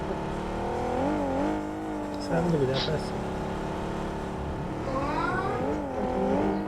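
In the video game PUBG, a blue car drives along with a droning engine whose pitch rises and falls with the throttle. It stays steady in the background beneath someone talking.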